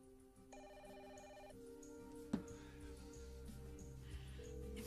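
A telephone rings through a steady background hum in an indoor scene, with a sharp knock or thud partway through and a faint voice at the edges.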